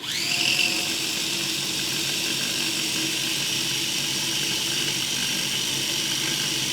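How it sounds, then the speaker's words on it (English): A food processor whizzes wild garlic leaves and herbs for pesto, a steady loud whirring blade drone running continuously without pause, no talking. "I'm going to whiz them up a little bit just to get those broken down a little bit."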